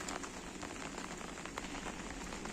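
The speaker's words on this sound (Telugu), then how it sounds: "తుఫాన్ లాగా అయితే పడుతూనే ఉంది వర్షం అంతా." Steady, storm-like rain falls over cloud-covered hills, a dense, even hiss of drops on surfaces that runs continuously with no pauses and no voices.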